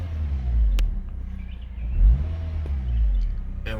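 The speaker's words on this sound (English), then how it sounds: "Give it a couple of revs." Engine of an eighth-generation Honda, 2008–2012, revved from an idle near 900 rpm, heard from inside the car as a low, steady rumble with a brief swell in the middle, faint and with no talking over it.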